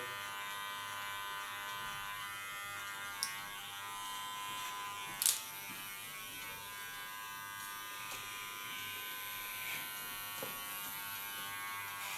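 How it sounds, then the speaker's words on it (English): Electric hair clippers shave the side of a head for an asymmetric side-shave cut, a steady close buzzing hum running throughout with a couple of brief sharper clicks or scrapes as the blade shifts. "Leaning on the sides of my clipper blade."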